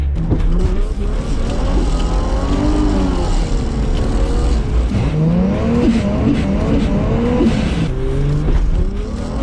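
A car at a Sydney Datsun Club motorkhana revs hard and skids, its engine note rising and falling with squealing tyres close by and loud throughout, no voices heard.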